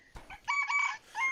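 A large rooster in a backyard coop crows once, loud and close, a rising cock-a-doodle-doo broken into several strained syllables that trails off, with a brief soft rustle just before it.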